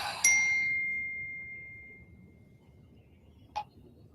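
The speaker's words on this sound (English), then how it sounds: "I'm going to try to silence my notifications right now because they are coming through like crazy." A phone notification chime rings once, clear and bright, and rings on as it fades. A brief second ping follows a few seconds later, in a quiet room with no talk.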